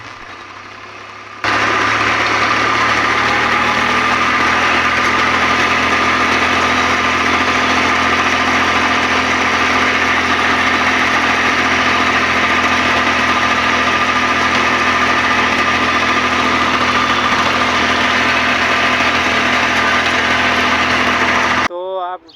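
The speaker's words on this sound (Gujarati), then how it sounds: "ટ્રેક્ટર લઈને હવે જવું ગામમાં" A tractor engine idles steadily on a village farm road, a loud, close, even diesel rumble that starts abruptly after a short quiet moment and holds until a sudden cut near the end.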